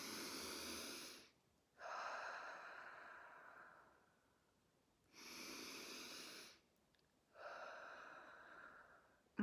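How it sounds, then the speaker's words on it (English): A person breathes slowly and audibly, with three long breathy exhalations or inhalations separated by short pauses, close and alone without talk. "I'm breathing, right? In and out."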